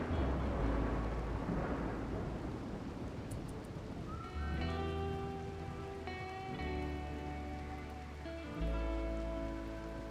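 Steady broadband rain hiss in the video game RimWorld fills the scene, joined midway by layered tonal music with sustained chords; no one speaks.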